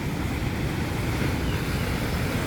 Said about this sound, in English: you'd be heavily relying on these water taxis